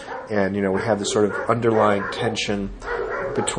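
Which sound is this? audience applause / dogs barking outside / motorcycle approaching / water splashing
dogs barking outside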